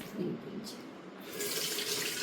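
Water runs and splashes steadily through a strainer for a couple of seconds, a close, continuous pouring sound at moderate volume.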